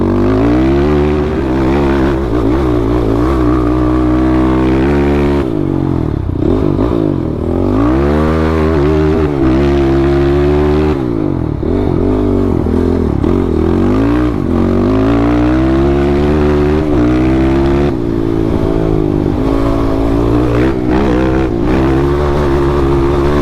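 An XTravel TRX450R sport quad rides over choppy ground, its engine loud and close throughout, with the revs repeatedly rising and falling as it bounces across the terrain.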